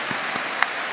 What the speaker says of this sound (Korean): 하나님께 감사의 박수